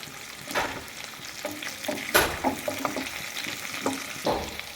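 Pointed gourd and potato pieces frying in oil, a continuous sizzle with repeated scraping and stirring knocks, close by and with no talking.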